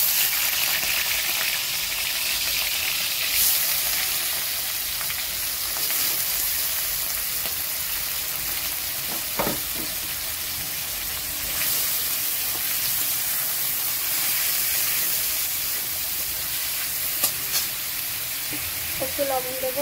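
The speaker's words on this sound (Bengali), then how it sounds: "চিংড়ি মাছটাও ভেজে নেব।" Prawns fry in a pan with a steady, moderately loud sizzle that hisses on without a break. A few faint clinks and spatters sit on top, and no one speaks.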